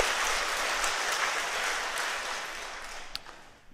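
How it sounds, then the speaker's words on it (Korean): Congregation in a Catholic parish church applauding together, a steady dense patter of many hands held for several seconds, then thinning and fading toward the end. "우리 미리 한번 박수 한번 쳐드릴까요?"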